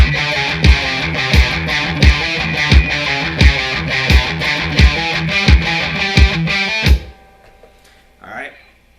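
Distorted electric guitar chugs through the breakdown of a song over a steady pounding beat, loud and driving with regular accents, then stops abruptly, leaving a ringing tail and a brief faint squeal.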